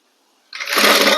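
Sewing machine stitching a shoulder seam on a kurti, starting abruptly after half a second of silence and then running as a loud, steady mechanical whir.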